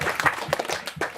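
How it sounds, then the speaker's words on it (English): A crowd at an outdoor fringe gathering breaks into a brief burst of applause, loud, dense clapping lasting about a second. "We can all give that a big round of applause"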